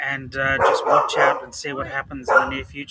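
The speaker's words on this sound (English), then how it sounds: "Sorry about the dog barking in the background." A dog barks in the background, unseen, while someone talks steadily over it and largely masks the barking through the whole stretch.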